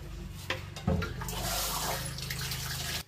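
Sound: pouring water into container of fish

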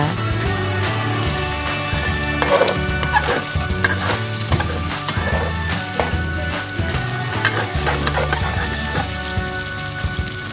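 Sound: eggs frying in a pan

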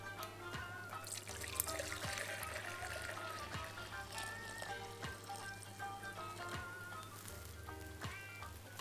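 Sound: pouring liquid egg mixture through a strainer

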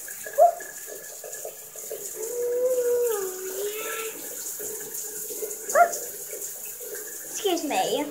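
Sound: shower water running

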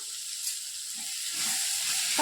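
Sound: onions and tomatoes sautéing in a pan for semiya upma

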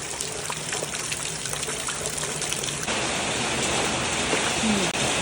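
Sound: heavy rain falling

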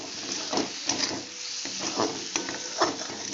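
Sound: sautéing greens with coriander and cumin powder in pan

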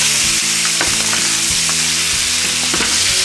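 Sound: chicken thighs searing in a hot pan

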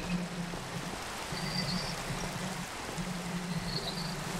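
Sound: rain in Minecraft video game

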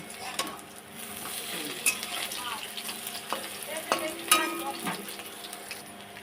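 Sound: frying small river prawn gram-flour fritters

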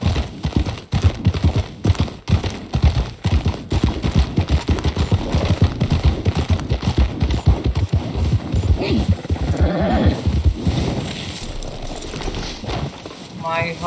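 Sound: horse galloping in the video game Red Dead Redemption 2

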